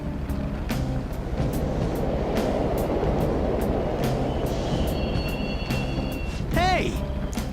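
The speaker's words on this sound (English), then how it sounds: "The trains are totally running." Subway trains in the video game Persona 5 rumble and clatter through a tunnel in Mementos, with intermittent metallic clicks and a brief squealing whine near the end.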